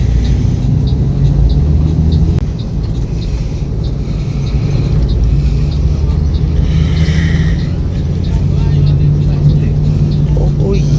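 Gunung Harta Mercedes-Benz executive bus pulling out of Terminal Terpadu Pulau Gebang, a steady low engine rumble and road drone heard from inside the cabin, continuous throughout with faint background noise.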